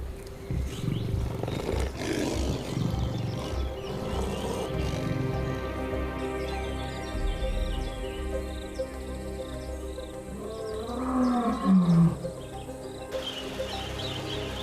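Lions roar at a waterhole in Etosha, Namibia, with deep, rumbling calls rising and falling over a steady wildlife backdrop, and a strong guttural roar near the end.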